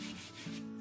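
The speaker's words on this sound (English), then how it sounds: "We're going to do that with a sanding block." A sanding block rubs across a model rocket fin in steady back-and-forth strokes, a close, dry scraping that holds throughout with no talk.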